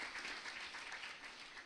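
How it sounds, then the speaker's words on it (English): A short burst of steady audience applause at a youth entrepreneurship event, even and continuous, heard from a distance and fairly quiet throughout. "A round of applause for him,"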